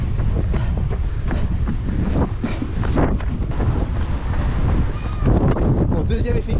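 Strong wind buffets the microphone on a seaside trail during the 92 km Côtes d'Armor ultra trail race, a loud, gusty roar with rumbling bursts throughout while a person talks underneath.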